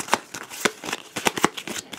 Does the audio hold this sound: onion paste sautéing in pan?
no